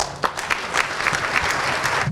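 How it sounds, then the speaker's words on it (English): Audience applause at a black tie gala benefit, a steady wash of many hands clapping close by, fairly loud and continuous for a couple of seconds with no talking. "give them a round of applause"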